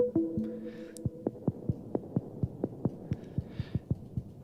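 Short, percussive synth plucks fed through a comb filter in a microfunk track, ringing as a steady rhythmic run of about fifteen bright, resonant ticks over a low hum, with a few higher tonal blips early on.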